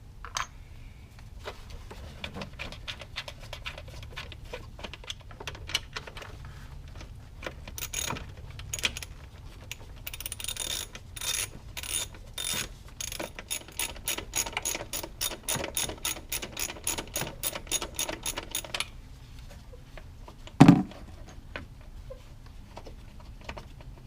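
A ratchet wrench backing out four 10mm bolts on a car's throttle body, fast clicking bursts repeated in quick runs, close and clear with short pauses and a louder clunk near the end.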